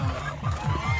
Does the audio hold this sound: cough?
no